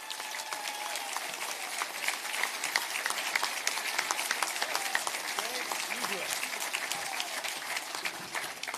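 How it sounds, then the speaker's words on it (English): Steady applause rises from a town hall crowd in Lethbridge for the Premier, with sharp individual claps over a continuous wash, moderately distant, and faint voices mixed in. "can we just have a round of applause for the Premier?"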